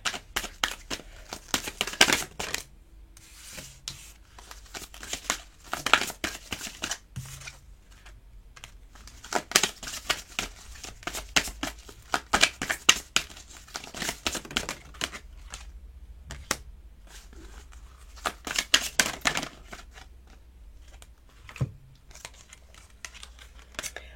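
Oracle cards are shuffled and drawn by hand in a series of close, crisp riffling bursts and papery flicks, separated by short quiet pauses.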